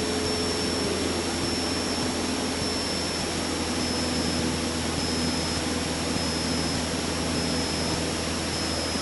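Light aircraft engine holding steady cruise power around 2200 to 2300 RPM during a flight lesson, a loud continuous drone with constant broadband roar and no pauses throughout.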